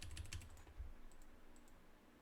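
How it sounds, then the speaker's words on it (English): Quiet clicks of typing on a computer keyboard, a quick cluster of keystrokes at first, then sparse faint taps, with no talking. "Okay, I can type."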